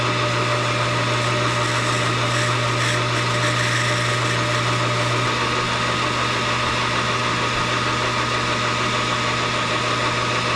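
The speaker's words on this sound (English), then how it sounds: "I'm going to cut a 1/2 inch wide tenon for the threads" Metal lathe cutting a 1/2 inch wide tenon 550 thou in diameter for threads, a steady loud motor hum with continuous cutting noise, unbroken and close, with no talk.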